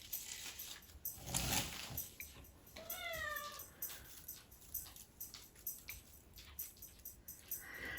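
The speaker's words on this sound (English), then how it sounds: "That's my little cat." A small, elderly, blind pet cat gives a short rising meow, faint and close, amid soft rustling and handling noises indoors.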